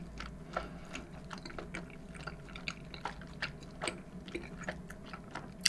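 Someone chews a firm sub sandwich roll during a mukbang, producing steady, close, wet chewing and soft biting sounds against a low room hum, with no talking.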